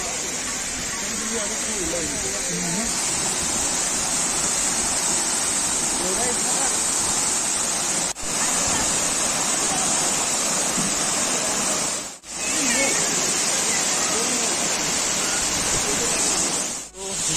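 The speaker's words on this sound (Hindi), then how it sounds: "तो कैसा व्यू है भगसुनाग वाटरफॉल" Bhagsunag waterfall in McLeodganj roars as a steady, loud broadband rush of falling water, continuous through the whole stretch with only brief dips, and a voice can be made out faintly beneath it.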